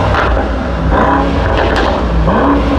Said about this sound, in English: Let's just take a listen then to the sound of this car.